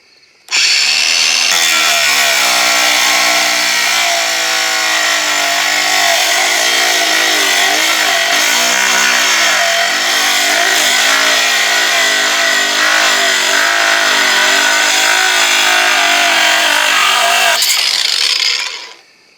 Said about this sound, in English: This is just a die grinder with a cutting disc.